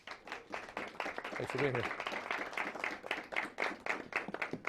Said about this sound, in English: Give our judges a big round of applause, please.